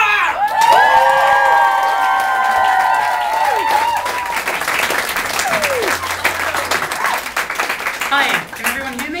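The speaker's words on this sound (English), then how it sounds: "Would you please welcome to the stage with a massive amount of clapping and cheering?" Theatre audience at a live museum-themed showcase night applauding and cheering loudly as a performer is welcomed on stage; dense sustained clapping with whoops and shouts, tapering slightly toward the end.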